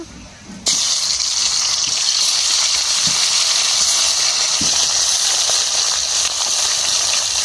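Pieces of fish rubbed with salt and turmeric drop into hot oil in a wok, setting off a sudden loud, broad sizzle that keeps hissing steadily for several seconds up close.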